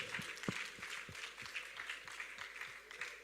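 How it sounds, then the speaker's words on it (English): Audience applause at a surveyors' annual conference, welcoming the first Vice President, a dense patter of many hands clapping steadily, fairly quiet and moderately distant, with a few sharper individual claps standing out. "A round of applause for him."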